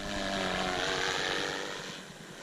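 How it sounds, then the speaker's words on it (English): The electric motor of a Protos 380 RC helicopter drives the main rotor at high RPM, a loud, steady broadband whir with a droning tone that eases slightly toward the end. "Can hear it speeding up the main rotor."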